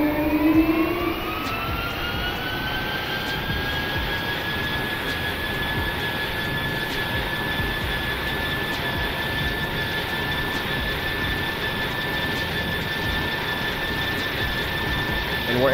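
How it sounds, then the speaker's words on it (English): Simulated Airbus A220 jet engines howl steadily during takeoff in a Minecraft flight simulator mod, a loud continuous drone with a rising whine that climbs in pitch early and then holds level. "when the A220 is taking off, you usually hear the engines howling"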